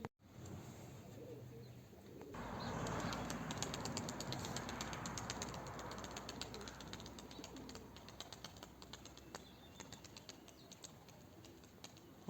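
Pigeons released by a Turkish pigeon keeper, a soft, continuous murmur of cooing from several birds nearby with scattered flutters and light rustling, all at a low, steady level.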